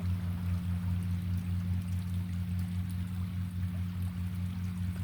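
Water flows steadily close by along a wild outdoor root path, a soft continuous wash with a strong low hum running underneath; no one speaks.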